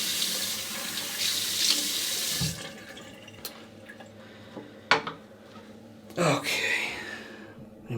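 Water runs from a tap into a sink for about two seconds to wet a face before shaving, then a few splashes and clinks of handling follow, close by, with someone briefly talking.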